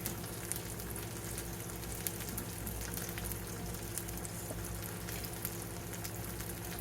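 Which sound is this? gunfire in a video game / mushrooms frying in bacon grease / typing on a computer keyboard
mushrooms frying in bacon grease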